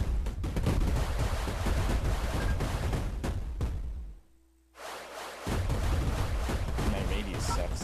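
Missiles firing in the Missile Command video game, a dense barrage of rapid explosive bursts and whooshes, loud and close, broken by a brief near-silent gap before the volley resumes.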